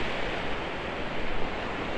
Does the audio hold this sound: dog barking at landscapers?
no